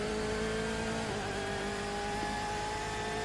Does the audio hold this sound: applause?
no